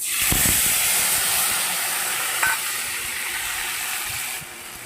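Ground ginger, dried chilli and cumin paste dropped into hot oil for a singi fish curry, giving a loud bright sizzling hiss right away that settles into a steady frying crackle, close and without voices.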